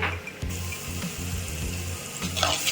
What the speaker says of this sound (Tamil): இஞ்சி பூண்டு சேர்த்து கொஞ்சம் நல்லா வதங்கணும்